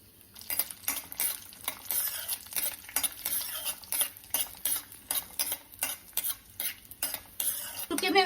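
Pistachios and almonds sautéed in ghee in a pan, rhythmic repeated stirring with a spatula scraping the metal, quick regular strokes over a faint sizzle, fairly close.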